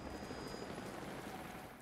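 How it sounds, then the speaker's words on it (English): A helicopter in the video game Rise of the Tomb Raider gives off a steady, faint rotor drone and rumble that holds at an even level without a break. "Jacob, helicopters are headed your way"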